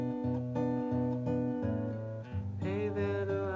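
Acoustic guitar strums the chords of the second part of the verse of a song, steady rhythmic chord strokes with a change partway through, played alone without singing or talk.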